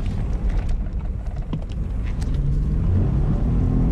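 A 2023 Ford F-150 pickup drifts, its engine a loud, steady close rumble with broadband tire and road roar that holds throughout.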